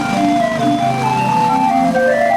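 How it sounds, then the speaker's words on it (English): Old steam-style calliope on a decorated truck in a Fourth of July parade, playing a steady, loud, piping organ melody with sustained whistle tones throughout. "When the Canarudis retired their horses in the mid-'80s, the calliope stayed at their Indian Valley home, only to play at parties and family gatherings"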